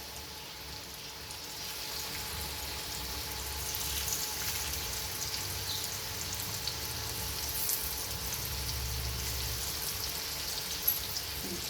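Large coated prawns fry Malvani-style in hot oil over a medium flame, a continuous soft sizzle and crackle with light spattering pops running steadily for about twelve seconds, no voices over it.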